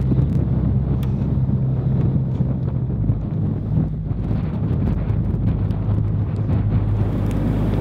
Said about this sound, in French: Ah, la rafale arrive.